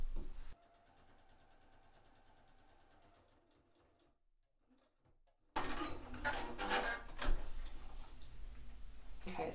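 A sewing machine back-stitches the seam of a potato storage bag: a faint, quick ticking run that stops, followed by a sudden louder stretch of rustling and handling noise.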